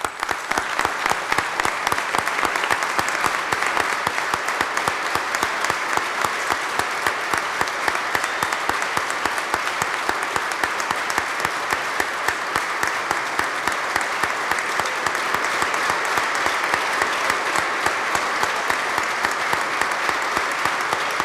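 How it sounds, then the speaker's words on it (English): Sustained applause fills the New York State Senate chamber, a dense, even roar of many hands clapping that holds steady for about twenty seconds, close and loud with no speech over it. "Let's join me in giving him a round of applause."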